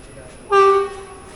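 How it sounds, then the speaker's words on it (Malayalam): Nilambur–Shoranur passenger train (56610) pulls into the station, sounding a single short horn blast of about a third of a second, loud over a steady low rumble of railway background. "അപ്പോൾ നമുക്ക് പോകാനുള്ള വണ്ടി ഇതാ കയറി വരുന്നുണ്ട്."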